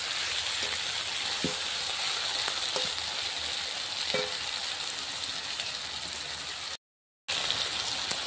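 Ginger, garlic, onion, green chilli and tomato frying in oil, a steady sizzle with occasional sharp pops and spatters, close and continuous, no talking.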